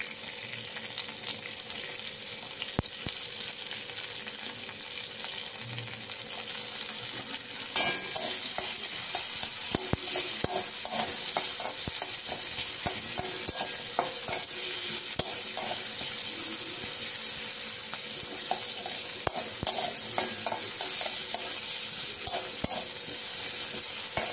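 Onion fries in a pan for a mushroom dish, a steady close hiss of frying under repeated scraping and clacking of a spatula as it is stirred, with a faint tap-water rush in the background.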